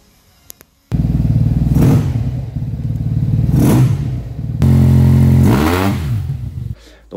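A Yamaha T-Max 560 scooter with Malossi tuning revs loudly up close, rising and falling in two long throttle pulls after a quiet start, then cuts off near the end.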